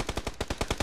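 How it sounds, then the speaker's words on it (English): Rapid automatic gunfire from across the street in the video game PUBG, about nine evenly spaced loud shots in under a second, with no talking. "They're shooting across the street, that's why."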